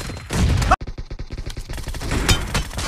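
Gunfire in the BGMI battle royale mobile game, a dense, loud burst of shots with sharp cracks and impacts, briefly cut off and then resuming in a choppy flurry.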